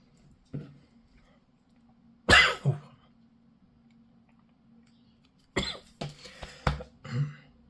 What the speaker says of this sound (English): Still struggling with a bit of a cough.